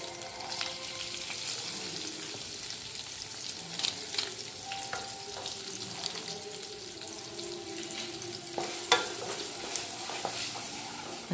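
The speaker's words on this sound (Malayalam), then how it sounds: "മസാല ചേർത്ത് ഒരു 2-3 മിനിറ്റ് വഴറ്റുക." Boiled potato being sautéed with Maggi noodle masala in a pan gives a steady sizzle with scattered scrapes and taps of stirring, close and fairly quiet, with no voices.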